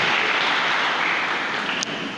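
A church congregation at a youth worshippers' congress applauds, a steady dense wash of clapping filling the whole moment, loud and close with no voices over it.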